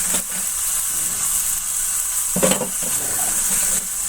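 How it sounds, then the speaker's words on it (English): Ground beef sizzles in a frying pan for a meat pie, a steady, close crackling hiss that holds throughout with a brief louder burst midway. "That should be sizzling, right?"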